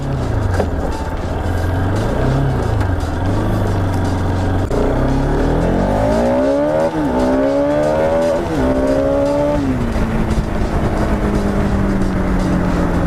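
A Bajaj Pulsar RS 200 motorcycle pulls away in first gear, its engine note climbing steadily in pitch as revs build, loud and close with a continuous rising drone.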